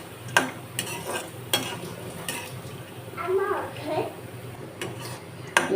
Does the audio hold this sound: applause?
no